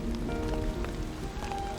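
Steady rain patters on a surface, a continuous wash of drops with a faint tonal hum underneath.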